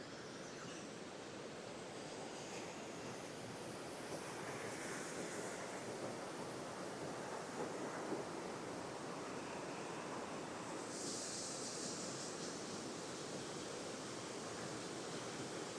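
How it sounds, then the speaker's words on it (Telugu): A stream running through bamboo-covered hills on the road from Sankhavaram to Andhra Sabarimala, a steady, even rush of flowing water that fills the air without pause, with no voices. "చూడండి వాటర్ ఫ్లో కూడా బాగానే ఉందండి."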